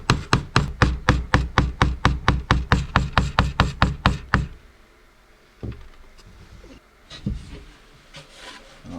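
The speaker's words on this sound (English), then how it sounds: "Just knocking them in with some small nails." Small nails hammered into the wooden wheels of a VW camper planter: a rapid run of about twenty sharp, close, evenly spaced blows over four seconds, then a few scattered knocks and handling sounds.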